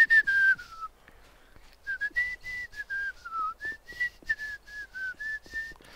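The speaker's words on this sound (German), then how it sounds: "Ich pfeife einfach mal ein bisschen, damit die Rehe schneller laufen" A person whistles in The Long Dark to drive deer onward, a near series of short rising and falling tones, one long opening note, then a run of brief whistled notes in quick succession, heard alone.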